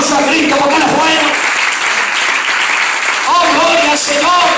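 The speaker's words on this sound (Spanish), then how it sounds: "Dale fuerte el aplauso a Cristo porque Él es bueno." A church congregation claps strongly and continuously during a worship service, a dense, loud burst of applause lasting several seconds, with voices shouting over it.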